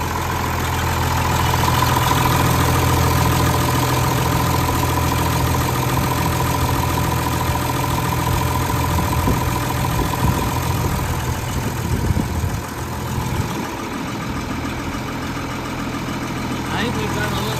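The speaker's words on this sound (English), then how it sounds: "the little tractor fired up with no ether or anything like that" A 1973 John Deere 4030 tractor engine idling steadily up close, a continuous low rumbling drone with a persistent hum, a brief dip near the end.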